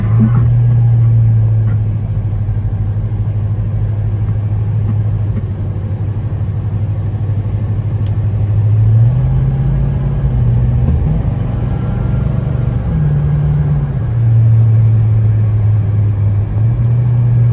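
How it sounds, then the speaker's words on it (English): A 1972 Pontiac Grand Prix Model J runs and drives, its engine giving a loud, steady low rumble with a few gentle rises and falls in pitch, heard without talk. "Just an awesome running, driving car."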